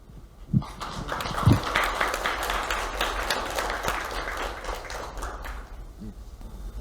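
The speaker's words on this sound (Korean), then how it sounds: "우리 박수로 우리 발제자 박종상 박사님을 모시겠습니다." Seminar attendees applaud to welcome a presenter at a Korean War memorial seminar, a dense, sustained patter of clapping that swells after a few sharp opening claps and then tapers off.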